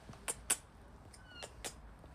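A house cat meows softly at home, a few brief faint calls spread over about two seconds against a quiet background.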